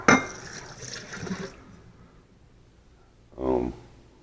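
Liquid pours out of a stained coffee cup and splashes for about a second and a half, then after a quiet pause a short second gush of pouring follows.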